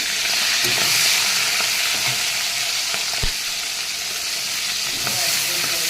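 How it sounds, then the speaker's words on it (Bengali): Steady hissing sizzle of shrimp frying in a pan, up close, with a few faint clicks of stirring scattered throughout. "এখন আমি চিংড়ি মাছটাকে ভেজে নেব"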